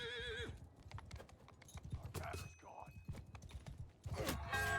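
Light horses run at full speed in a medieval battle video game, giving rhythmic clip-clop hoofbeats with a neigh at the start and a whinny near the end, plus some mechanical creaks.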